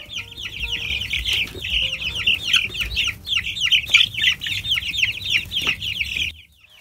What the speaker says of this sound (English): I took them into the chickens and they had a great time with them